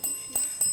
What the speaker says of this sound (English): That bell signifies the end of the final challenge, and indeed the end of the match.